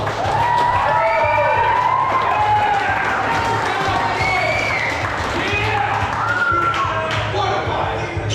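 Crowd applauds and cheers for two competitors at the end of a bout, with dense clapping and whoops throughout and voices shouting and talking among them.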